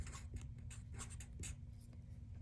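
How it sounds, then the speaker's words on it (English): A pen writes by hand on paper during a geometry lesson, giving soft, close scratching strokes in short irregular bursts over a low hum, with no voices. "Let's write that down."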